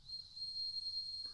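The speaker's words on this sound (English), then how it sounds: "like a brass whistle being played" Faint brass whistle sound effect: a thin, steady high whistle tone held for about a second, quiet and distant over a soft background hiss.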